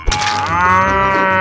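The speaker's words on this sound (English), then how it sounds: "Cow." A single long, loud cow moo, drawn out and steady, heard up close and alone.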